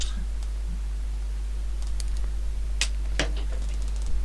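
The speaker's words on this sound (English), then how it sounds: "Stop typing." Someone types on a computer keyboard, giving sparse, scattered clicks and keystrokes over a constant low hum, with faint murmuring in the background.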